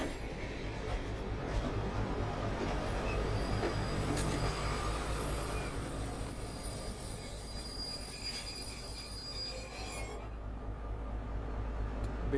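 Train sounds in the horror video game Man on the Train: a continuous rail rumble with squealing wheels and clattering, steady and close, cutting off near the end.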